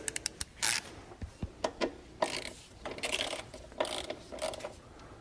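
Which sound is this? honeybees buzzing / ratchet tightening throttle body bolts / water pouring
ratchet tightening throttle body bolts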